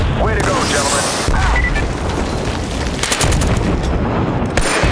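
Killzone 3 multiplayer combat with rapid gunfire bursts and booming impacts, dense and loud throughout, with sharp repeated shots clustering near the end and faint voices underneath.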